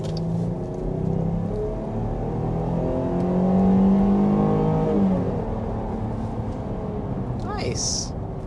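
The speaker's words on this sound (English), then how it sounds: "quick punch of the accelerator" A 2023 Jeep Grand Cherokee L accelerating uphill in a quick punch of throttle, its engine rising in a smooth swelling whir heard from inside the cabin, with a voice talking over it.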